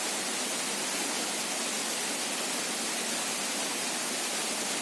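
Rushing white water at the Grobogan Sewu waterfall, which falls over limestone rock among wild vegetation: a steady, full, hissing roar that holds unbroken throughout, close and loud, with no voices.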